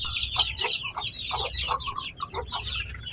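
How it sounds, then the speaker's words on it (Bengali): Repeated short clucks from a hen in a rooftop garden mix with a dense chorus of shrill peeping from her chicks nearby. "এই যে এখানে আরেকটা মুরগি আছে"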